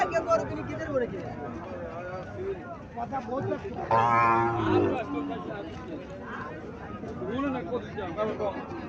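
A Sahiwal cow and her calf low at a rural cattle sale, one long loud moo rising near the middle amid nearby people talking and general crowd murmur.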